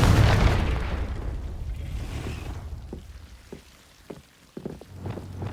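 A Confringo fire spell in Hogwarts Legacy lands with a big booming blast that decays over several seconds into a crackling, rain-like hiss, followed by a few sharp debris pops near the end.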